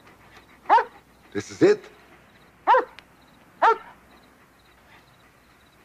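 A dog gives a few short, sharp barks and yelps spaced a second or so apart, close and fairly loud, alongside brief bits of a man's speech.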